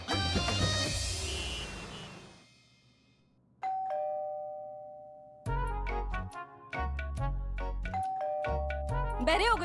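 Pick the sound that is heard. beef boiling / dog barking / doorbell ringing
doorbell ringing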